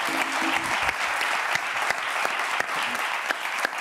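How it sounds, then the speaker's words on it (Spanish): A TV studio audience at a late-night talk show applauds in a steady wash of clapping with a few sharper individual claps standing out, fairly distant and under faint background sound. "Un aplauso ahí para Canarias."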